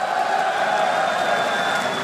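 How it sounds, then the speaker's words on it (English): A large esports arena crowd at the EMS One Katowice CS:GO final in the Spodek Arena, Poland, roars in a dense, sustained wall of cheering. "This crowd is absolutely phenomenal"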